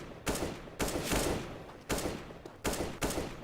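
Automatic rifle fire in a CS:GO match comes in four loud, close bursts of rapid shots separated by short pauses.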